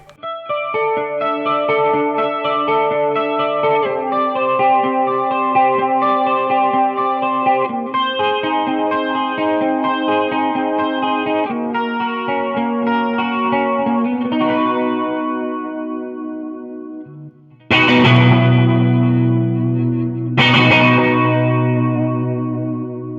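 An electric guitar with a middle pickup rings out through an ambient effects unit, with sustained chords and melodic notes washed in chorus and distortion, loud and continuous, then two heavy struck chords near the end.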